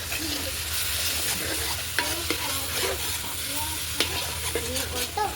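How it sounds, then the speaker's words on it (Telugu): Ginger-garlic paste fries in a hot pan, a steady low sizzle broken by scraping stirs at irregular intervals, close and moderately loud with no talking. "అల్లం వెల్లిపాయ పేస్ట్ ఒకసారి తిప్పుకుందాం"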